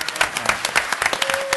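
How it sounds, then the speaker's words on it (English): A conference audience applauds the judges of a startup pitch session, brisk close clapping with distinct individual claps in a short, lively burst. "Big round of applause"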